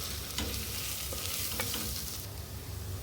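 Dense sizzling of potatoes frying with masala, scraping spoon strokes as they are stirred in a pan, close and continuous, no voices.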